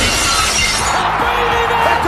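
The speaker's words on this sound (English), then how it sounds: "Smash the glass." A loud, close crash of glass shattering, a bright burst of breaking shards that rings and scatters over about two seconds, heard alone without talk.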